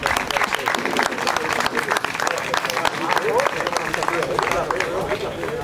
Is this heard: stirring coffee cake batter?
no